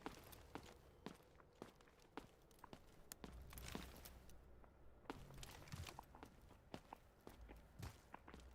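Footsteps in the game Delta Force, a faint steady series of distinct steps at a walking pace, with no talk over them.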